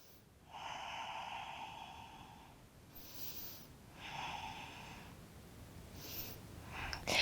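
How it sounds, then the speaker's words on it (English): Slow, audible Ujjayi breathing during a yoga practice: a soft, hissing, throat-constricted inhale and exhale repeated in long, steady cycles, close and quiet, with no talking. "tap into your Ujjayi breath here"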